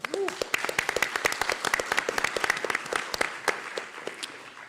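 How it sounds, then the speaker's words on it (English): An audience at an event bursts into dense, sustained applause, many hands clapping steadily before tapering slightly, with a brief voice at the very start. "Please give Jordan Camp a huge round of applause."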